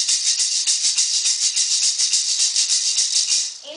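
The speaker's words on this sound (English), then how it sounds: "This is our maraca from Puerto Rico." A single Puerto Rican bomba maraca filled with seeds shakes in a fast, even rhythm, each bright seedy rattle pulsing close and clear before it stops near the end.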